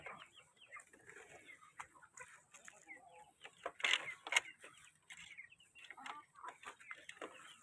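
Chickens and small chicks on a farm on a hot day, scattered clucks and peeps at close to moderate distance, with a louder burst of clucking midway and faint mechanical clatter in the background.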